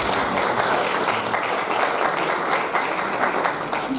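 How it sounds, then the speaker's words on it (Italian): Sustained, dense applause from an audience at an Italian science lecture event, steady and full across the whole stretch, loud and close with no speech over it. "un grande applauso"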